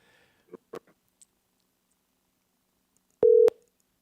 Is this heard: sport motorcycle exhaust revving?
no